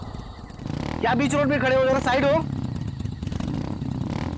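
A motorbike engine drones steadily on a forest road at night, a close, continuous rumble that swells briefly, while someone talks loudly over it.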